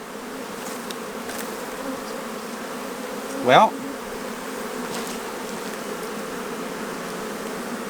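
Honey bees buzz steadily and close after a hive frame is shaken, with one brief louder buzzing swell midway; a person speaks briefly.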